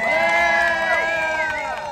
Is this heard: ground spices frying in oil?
no